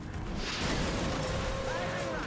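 A rocket explodes in the video game XCOM Enemy Unknown, a loud, dense blast that fills the whole stretch and rumbles on with crackling debris and a faint tonal ring.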